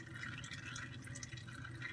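Old engine oil drains steadily from the removed oil filter of a 1999 Dodge Ram 1500, a continuous close trickling and dripping of liquid with no talk.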